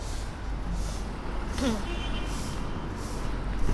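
A vehicle passes on a city street in Hong Kong, a steady low traffic rumble with a brief hiss and squeal midway, heard alongside a speaking voice.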